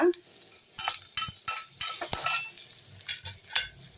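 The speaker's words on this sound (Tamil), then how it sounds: "இஞ்சி பூண்டு பச்சை மிளகாய் இதையும் போட்டுப்போம் நல்லா வதக்கிடலாம்" Ginger, garlic and green chillies sauté in a pan with a soft, faint sizzle, broken by a run of sharp scraping and clinking strokes as a utensil stirs them close by.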